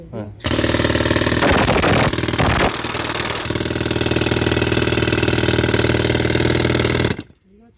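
A compressor engine runs at a gypsum factory, a loud, steady mechanical drone with rattling bursts near the start, holding close and constant for several seconds before cutting off.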